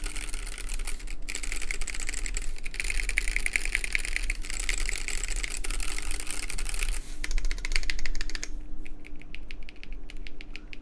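Rapid, continuous clacking of a mechanical keyboard with stock Gateron switches on a custom RGBKB Banana build, dense close keystrokes with a short pause and a sparser run near the end, over a faint background hum.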